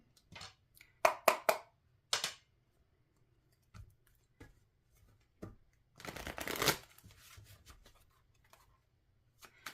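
A deck of tarot cards is shuffled in quick riffling bursts near the start and again around the middle, with soft card handling and quiet taps between them and no talking.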